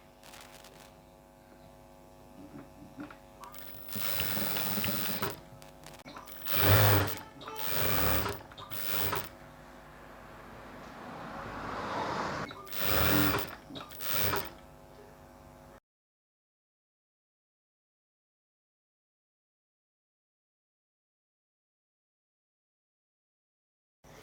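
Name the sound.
sewing machine stitching a dhoti salwar hem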